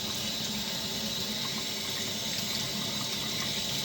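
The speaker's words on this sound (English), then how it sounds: "I'm going to turn on my water with a paper towel" A sink tap runs lukewarm water in a steady, even stream, the rushing and splashing continuous and fairly quiet from start to end.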